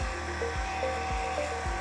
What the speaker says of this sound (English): Grab my heat, just give this corner a shot of heat